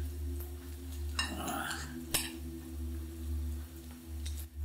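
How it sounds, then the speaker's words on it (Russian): A spoon stirring cucumber and cabbage yogurt salad in a bowl, a few soft squishing scrapes and a single sharp clink against the dish, close and quiet over a steady background hum. "Перемешиваем быстренько."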